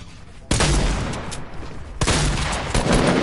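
Video game gunfire erupts in two loud, close bursts of rapid shots, each dense volley rolling into the next with a brief lull between.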